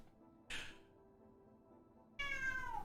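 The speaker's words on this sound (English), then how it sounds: "If you want a cat to leave you alone, you try to show it love and affection, and it'll just go away from you." A pet cat named Leo gives two meows, a brief one near the start and a longer, louder rising one at the end, heard close by against a quiet room.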